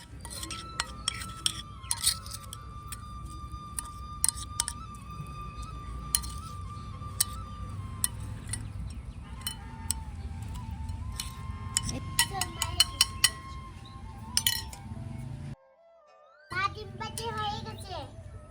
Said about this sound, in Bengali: এবার চামচ দিয়ে মিক্স করে নিই।